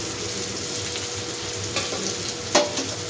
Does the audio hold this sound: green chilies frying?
yes